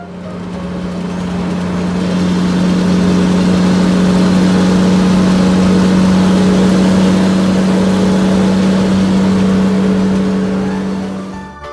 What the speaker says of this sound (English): Haul truck.